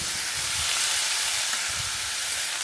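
Chicken pieces fry in a pan with salt and turmeric for a home-style Bengali dinner. A steady sizzling hiss runs through the whole stretch, with soft stirring bumps underneath and no talking.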